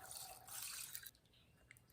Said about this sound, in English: I'm going to pour it through a fine mesh sieve